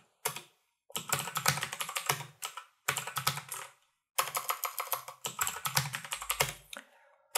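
Computer keyboard keys are tapped in quick bursts of clattering keystrokes, close and crisp, separated by short silent pauses as a password is typed.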